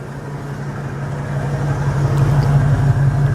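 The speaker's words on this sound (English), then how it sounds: "Idling nice and smooth." A 1990 Ford Bronco XLT, warmed up, idles smoothly with a steady low, even engine hum that grows slightly louder over a few seconds, heard close up with no talking.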